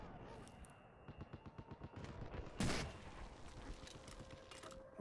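Rapid bursts of automatic gunfire in Battlefield 4: China Rising, a run of sharp repeated shots building to a loud close blast, then scattered distant fire continuing under the battle noise.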